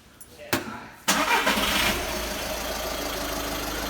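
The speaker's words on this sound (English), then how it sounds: "I might start this car there now" A Skoda Fabia engine cranks with a couple of short clicks and then catches, settling into a steady, fairly loud idle; a voice can be heard briefly over it.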